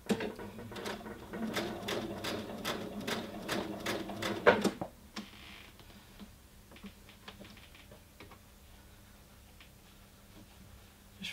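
A sewing machine stitches a curved princess seam in rapid rhythmic bursts of clicking needle strokes, then falls quiet as the fabric is repositioned, with faint handling taps afterward.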